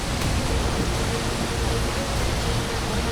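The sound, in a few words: waterfall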